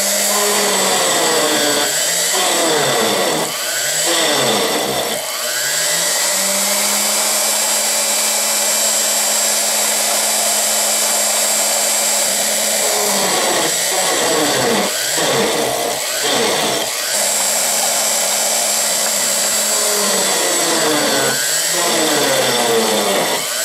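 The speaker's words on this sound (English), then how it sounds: "I think I can make at least a little pilot hole that I can re-drill later on" A loud, continuous electric drill whirs through a long run drilling pilot holes in an index plate, with pitch dips as the bit bites and some short pauses where the motor slows.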